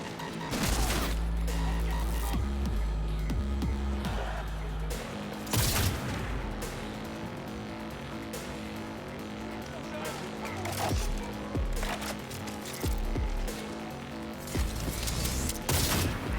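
Automatic gunfire from the Cyberpunk video game, with charged shots firing on their own: bursts of sharp shots and booms recur throughout over a dense game soundscape with music, while voices talk over it.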